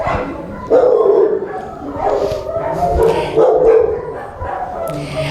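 Several dogs bark and yip at an SPCA animal shelter, sharp close barks repeating in bursts with occasional whimpers and a faint voice underneath.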